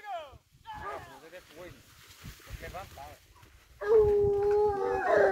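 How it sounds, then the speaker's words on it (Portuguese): A hunting dog howls and whimpers on the trail of wild boar inside a sorghum field, a sustained, wavering, fairly close howl rising near the end after earlier yelps, with people talking nearby. "O cachorro já pegou batida aí já, Dentro do sorgo."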